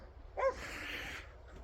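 A dog gives a single short bark or yip, fairly close but not loud, against quiet background noise with a faint hiss trailing after it.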